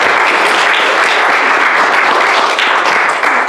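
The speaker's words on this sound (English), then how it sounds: "let's clap" A church congregation claps together, a loud, full, continuous wash of hands that holds steady throughout with no talking.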